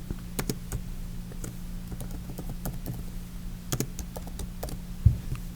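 Slow, sparse keystrokes tap on a computer keyboard as someone types one-handed, irregular clicks over a quiet background hum, with a louder knock near the end.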